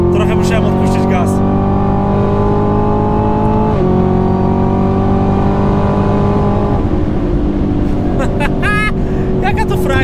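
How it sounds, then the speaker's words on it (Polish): A high-powered sports car pulls hard under acceleration from inside the cabin. A loud, continuous engine roar climbs in pitch and drops back at two gear changes, with no talking. "Żeby wam zobrazować, jak bardzo odchodzi ten samochód, trochę musiałem odpuścić gaz."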